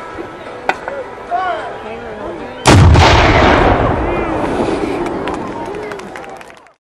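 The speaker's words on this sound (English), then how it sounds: "our last demonstration of artillery will be the 12-pounder" A 12-pounder black powder cannon fires a single deep, loud boom at the Fort Ligonier Days artillery demonstration in Ligonier, Pennsylvania, the blast rolling off slowly, with a crowd chattering faintly before it.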